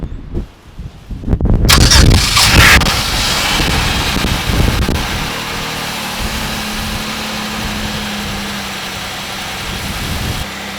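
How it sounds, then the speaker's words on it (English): A car with a freshly repaired cracked radiator and a refilled cooling system cranks over, catches loudly, then settles into a steady, close idle with no voices. "Let's start the car."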